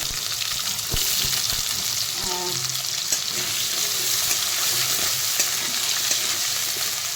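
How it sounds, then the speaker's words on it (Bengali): Potatoes fry in hot oil in a pan, a steady broadband sizzle running throughout with occasional stirring scrapes and clinks, close and fairly loud with no talk. "আলুটাকে একটুখানি ভেজে নেবো আগে"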